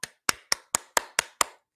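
Seven sharp hand claps in a steady, evenly spaced rhythm, close and crisp, with silence between each and no voices.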